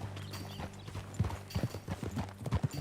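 Horse hooves clip-clopping in an uneven trotting rhythm as a rider sets off in Red Dead Redemption 2, close and moderately loud, with a low steady background hum underneath and no speech.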